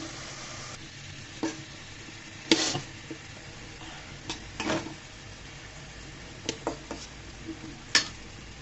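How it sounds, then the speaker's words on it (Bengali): Chicken frying in a little oil for a cauliflower and potato curry, stirred in the pan: a faint steady sizzle with occasional sharp scrapes and clinks of the spoon against the pot, no voices. "দিয়ে আবারও ভালো মতো নেড়ে চেড়ে দিচ্ছি।"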